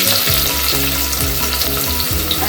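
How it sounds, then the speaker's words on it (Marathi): Curry leaves and chopped onion fry in hot oil, making a loud, dense, continuous sizzle and crackle close up, with no speech over it. "त्याच्यात कढीपत्ता घालून घेते आणि कांदा घालून घेते."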